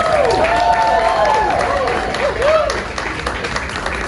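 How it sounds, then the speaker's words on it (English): Crowd at a pet gala applauding, with clapping mixed with rising and falling whoops and cheers over a busy, loud room. "can we give this incredibly talented man the biggest round of applause that we can muster?"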